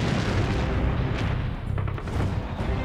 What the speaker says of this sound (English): Operation Cobra, the Allies' heavy bombing campaign to break out from the beaches, unleashes 9 million pounds of bombs.